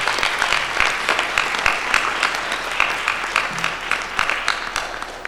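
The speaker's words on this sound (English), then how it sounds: "can we give them a round of applause?" An audience applauds after a debate, a dense and steady patter of many hands clapping that carries on for several seconds at moderate loudness, with no talk over it.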